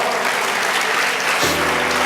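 A church congregation applauds in worship, dense, loud, steady clapping filling the room for a couple of seconds with a low hum joining near the end.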